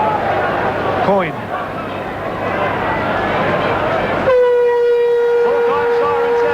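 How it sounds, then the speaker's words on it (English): Full-time siren at a rugby league match between Widnes and Canberra at Old Trafford, 1989 World Club Challenge: a loud, steady tonal wail sets in abruptly over a roaring crowd and a commentator's voice, then holds to the end. "Full-time siren sounds."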